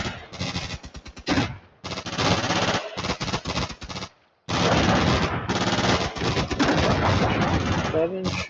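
Bursts of machine gun fire ring out during infantry combat leader training, loud and close, rattling in repeated volleys with brief pauses between them and a voice faintly underneath.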